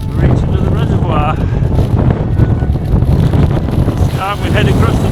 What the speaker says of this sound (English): Quite a strong wind up here